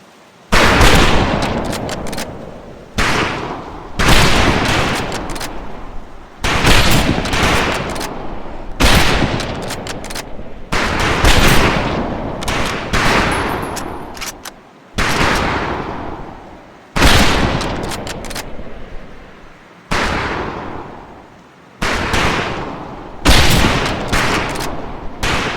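Rifle fire at a firing range in the video game Medal of Honor: Pacific Assault, with loud, near bursts of overlapping gunshots repeating in rapid volleys throughout, separated by brief pauses.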